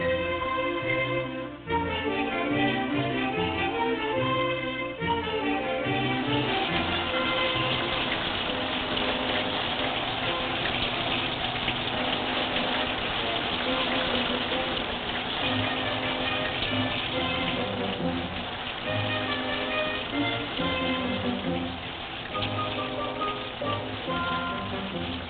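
A shower runs with a continuous heavy spray of water, steady and fairly close, while music plays throughout for about twenty-five seconds.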